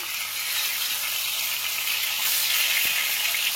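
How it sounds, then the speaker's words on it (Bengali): Bhetki fish frying gently in a pan gives a steady, close sizzle and hiss that swells slightly as it goes on, with one faint knock partway through. "মাছের একটা পাশ মনে হচ্ছে ভাজা হয়ে গেছে, উল্টে দেখছি।"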